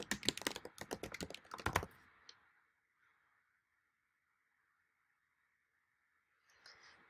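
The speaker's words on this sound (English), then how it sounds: "then I can start typing, or of course you can start from the end here and backspace to type in your name" Fast, close keystrokes rattle on a computer keyboard for about two seconds, then near silence with a faint steady hum, and a few soft clicks near the end.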